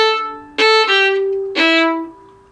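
Beginner fiddle plays a short phrase of a well-known theme tune on open and fingered strings, three bowed notes with clear sustained tones, close and alone.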